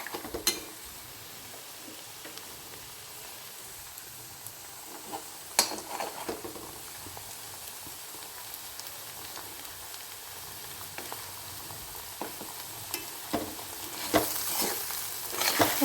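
Beaten egg being stirred through chopped ivy gourd in a pan, with soft scraping and clinks of a spoon over a low steady sizzle, quiet and close, a few sharper knocks near the end.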